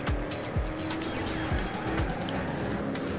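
A racing car in Trackmania Turbo on PS4 roars steadily with repeated short tire squeals and skidding as it slides through a sharp bend, loud and close with no talking.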